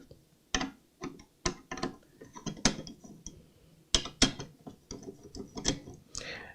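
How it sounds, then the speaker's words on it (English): Screws are backed out of the M.2 heat sinks on an Intel 12th Gen Z690 motherboard, giving a series of close, crisp ratcheting clicks in short irregular bursts from a driver, with no voices. "we'll go ahead and just start taking the heat sinks off of these M.2 slots"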